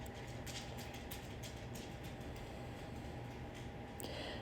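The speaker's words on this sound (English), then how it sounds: "His little claws are hitting my hard floor." A dog paces across a hard floor, its claws tapping in a quick, irregular clicking rhythm, faint beneath a constant broad background hiss indoors.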